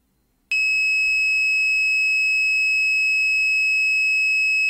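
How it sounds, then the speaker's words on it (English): A buzzer on an Arduino rain sensor module (FC-37/YL-83) switches on as water drips onto the sensing pad, giving a sudden steady high-pitched electronic tone that holds unbroken after a moment of near silence. "the output LED is glowing and also the buzzer is making sound"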